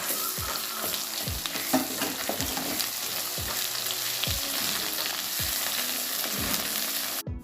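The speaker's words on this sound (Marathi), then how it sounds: "आता आपला मसाला थोडा परतला आहे" Ground masala paste with whole spices fries in hot oil for an egg curry, a continuous loud sizzle broken by regular scraping stirs of a spoon in the pan.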